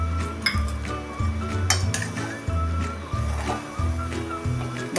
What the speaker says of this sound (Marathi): हे आता चांगलं एकसारखं हलवून घेऊया।